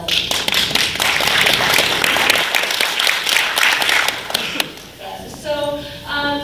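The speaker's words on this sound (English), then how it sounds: "So I also want you to give a round of applause to yourself" An audience at a Portland VegFest talk applauds itself: brisk, close clapping from a room of people that thins out after about four and a half seconds, followed by a few tonal sounds as it ends.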